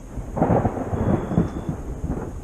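Thunder rumbles through a thunderstorm in the Balkans, heard from inside a tent, with low rolling booms that swell and fade over a couple of seconds amid rain noise.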